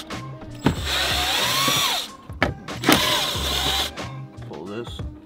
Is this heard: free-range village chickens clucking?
no